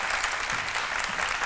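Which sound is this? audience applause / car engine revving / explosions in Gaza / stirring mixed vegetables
audience applause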